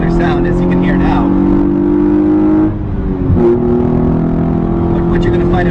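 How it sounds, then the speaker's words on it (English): A 2014 Hyundai Genesis Coupe with its 3.8-liter V6 accelerates hard, a loud, close, harmonically rich engine note rising through the revs, easing briefly midway, then pulling strongly again. "It also makes a spectacular sound, as you can hear now."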